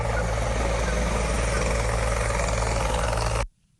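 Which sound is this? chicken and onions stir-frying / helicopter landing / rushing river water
helicopter landing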